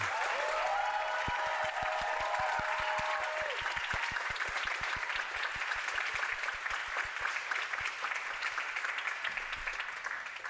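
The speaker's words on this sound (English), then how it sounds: "That was my very polite clapping." One person claps politely in a slow, even rhythm, roughly thirty distinct claps over about ten seconds. A brief tonal chime fades out near the start while the clapping carries on alone.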